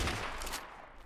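A rapid burst of gunfire from a gun in ARK: Lost Island, sharp shots packed close together at the start and then tapering off, fairly loud with no talk.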